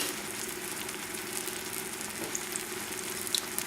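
Kimchi with hot pepper flakes cooks in a pan, giving a soft, steady sizzle with faint crackles and a few small pops, close by, with no voices.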